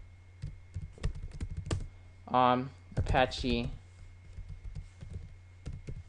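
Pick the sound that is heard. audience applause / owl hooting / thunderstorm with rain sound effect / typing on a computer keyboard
typing on a computer keyboard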